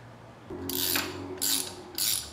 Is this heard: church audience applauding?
no